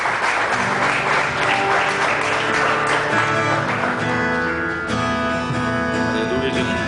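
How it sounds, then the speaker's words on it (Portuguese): Church congregation clapping together during a worship service, a steady broadband wash of applause lasting throughout, with music and voices faintly underneath. "Só os que reconhecem isso, aplaudam ao Senhor"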